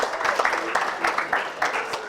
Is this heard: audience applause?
yes